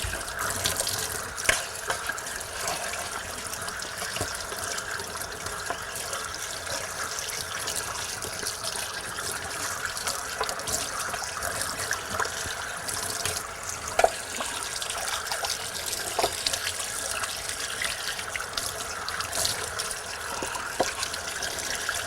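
Tap water runs steadily into a sink as a cut of meat is rinsed under it, a continuous splashing rush with slight shifts in the flow, fairly loud and close, with no talking.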